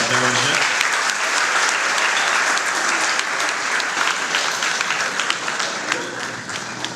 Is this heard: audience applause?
yes